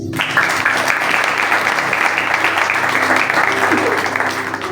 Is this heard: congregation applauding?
yes